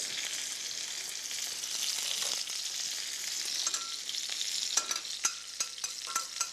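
Garlic fries in oil in a pan, a steady close sizzle with stirring scrapes and sharp clicks toward the end.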